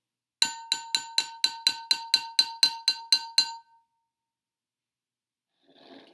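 A glass of hot water rung as a music experiment, struck about twelve times in quick, even succession, each stroke a bright ringing clink that decays briefly, followed by silence and a faint soft rustle at the end.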